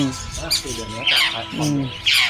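A bird in Chatuchak Park, Bangkok, giving harsh, repeated squawking calls nearby, partly overlapped by people talking.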